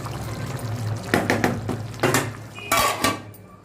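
Metal pot and lid clank and scrape as a pot of chicken biryani is covered for dum cooking: several sharp close metallic knocks, the lid rattling into place among soft kitchen noise.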